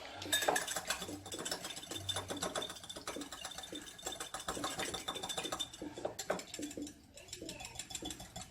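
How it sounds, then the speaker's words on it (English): A whisk clatters briskly against a bowl as milk and egg are beaten together for dumplings to go with beef stew, quick, close, irregular metallic taps and scrapes at low volume with no talking. "we get the milk and the egg, put your egg in there, mix them together, give it a whisk up"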